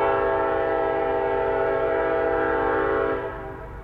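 A loud, sustained horn from an eastbound CN mixed freight train blares close by over rumbling rail noise near the Galena River Bridge in Galena, Illinois, then cuts off, leaving the lower roar of the passing train.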